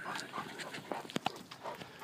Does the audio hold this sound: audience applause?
no